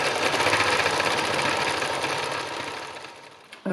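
A sewing machine stitches fabric art in a fast, steady mechanical whir close by that gradually slows and fades before a brief clunk as it stops.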